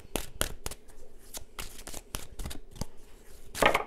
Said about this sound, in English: So I'm just going to give you a quick shuffle and give you a card or two,